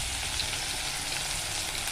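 Chopped onion frying in hot oil with panch phoron, a steady, loud, close sizzle that holds evenly throughout with no voices.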